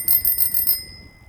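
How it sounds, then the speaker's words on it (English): A bicycle bell rings loud and close in about five rapid metallic dings, then its bright tone rings out and fades, with no talk. "I'm gonna use my bell."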